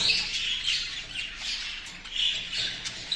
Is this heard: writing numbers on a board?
no